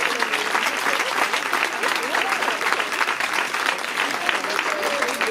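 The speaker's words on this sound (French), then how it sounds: "je pense que ça peut s'applaudir" Crowd applause at a pink breast-cancer charity event with around 500 participants, a sustained, even roar of many hands clapping with cheering voices mixed in throughout.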